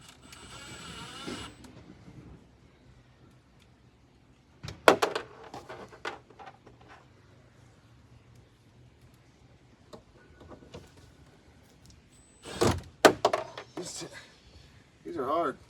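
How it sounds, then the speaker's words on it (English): Metal screws, about a quarter inch long and fat, being driven into a storage box, with sporadic sharp clicks and scraping bursts at mid-distance between quieter stretches, plus faint rustling. "Gotta screw these in."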